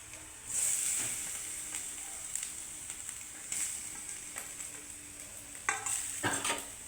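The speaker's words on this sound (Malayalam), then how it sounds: "തേങ്ങ വെളിച്ചെണ്ണയിൽ വറുത്താൽ ചീര പോയി പോവില്ല" Grated coconut frying in coconut oil gives a steady, fairly quiet sizzle, broken by occasional scrapes and clinks as a spoon stirs the pan.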